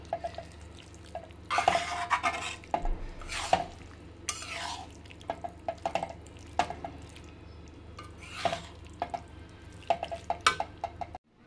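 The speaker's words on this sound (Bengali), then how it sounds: "এবার এটাকে ভালোভাবে মিশিয়ে নেব।" Oregano and chilli flakes being stirred into a mixture for a spicy mutton curry meal, giving repeated scraping and clinking strokes in bursts over a low steady background hum, with no talking.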